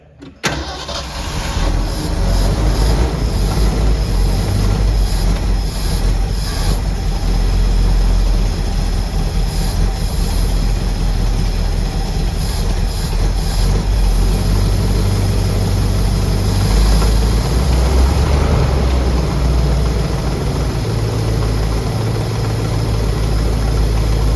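A 1979 Ford L-600 service truck, a barn find cracked carburetor and all, fires up for the first time in 17 years, then runs as a loud, steady, rough idle close by for over twenty seconds, with no talking.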